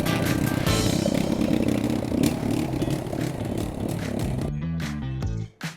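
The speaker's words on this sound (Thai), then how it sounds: "เร่งเครื่องยนต์นะคะเร่งให้มันเร็วขึ้นนิดนึง" A Honda 11 hp riding lawn mower engine revs loud and near with a rough, buzzing roar, then drops off sharply at the end before a brief final burst.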